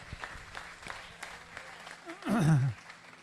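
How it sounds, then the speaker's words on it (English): Light scattered clapping from spectators at a county 4-H sheep show, close and modest, briefly overlapped by a voice near the end. "Let's give them all a round of applause"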